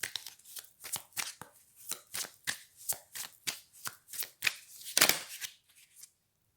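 A deck of cards being shuffled, with a steady run of crisp riffling bursts about every third of a second, close and clear, ending in one louder snap.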